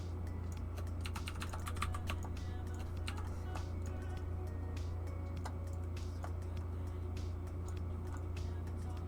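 Keys clack on a roughly ten-year-old computer keyboard during a Kerbal Space Program session, a quick patter of faint clicks riding over a steady low hum of room and computer noise.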